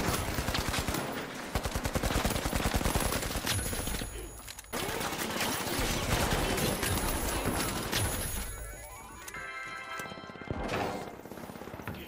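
Gunfire in the shooter game The Finals: rapid, close automatic bursts rattle almost without pause, with a brief gap, then more firing and mechanical clatter, loud and busy throughout.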